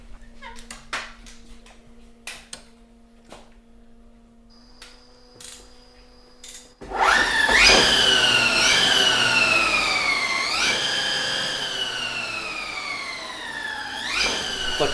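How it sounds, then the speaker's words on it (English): After scattered clicks and a low hum, the Vector machine starts up with a loud rising, siren-like whine, its tones sweeping up and down repeatedly as the startup process runs on. "I'm just about to start up the Vector now, and what you'll hear is us taking it through its startup process"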